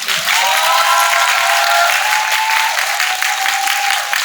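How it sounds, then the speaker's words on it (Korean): Audience applause at a film screening talk in Yongsan, dense and sustained clapping filling the room at steady loudness, with a faint tone or voice underneath. "이제 박수 치세요."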